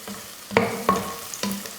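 Sliced onion and green chillies hit hot oil for chicken biryani, a close crackling sizzle broken by a few sharp bursts as pieces drop in and get stirred.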